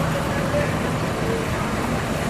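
An ANS passenger bus pulls away at a busy Indonesian bus stop, its engine a steady broadband rumble mixed with roadway noise, close and continuous throughout.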